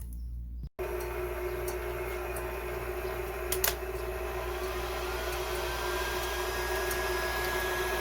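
A small coffee roaster loaded with about a pound of beans whirs into operation after a brief silence, settling into a steady mechanical hum and drone with a few faint clicks, close and continuous, no speech.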